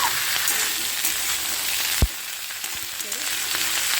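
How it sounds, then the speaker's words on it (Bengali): Spring onion greens fry in a pan with a continuous loud hiss, and a single sharp knock of the spatula comes midway, with faint stirring scrapes and no talk. "খুব ভালো করে এভাবে নাড়িয়ে চাড়িয়ে তোমরা ভালো করে একটুখানি ভেজে নেবে"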